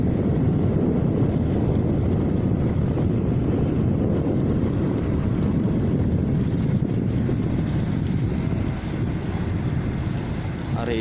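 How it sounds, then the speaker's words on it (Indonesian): Strong wind buffets the microphone at the Bom Baru ship harbour in Palembang, a loud, steady roar with low rumble and no talk. "Hari ini masih terlihat kabut dan angin sangat kencang."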